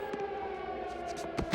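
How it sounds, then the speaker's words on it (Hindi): An air raid siren wails across a cartoon island town during an alien invasion, holding a steady sustained tone at moderate volume with brief sharp effects over it. "अब एयर रेड सायरन को बंद कर दो"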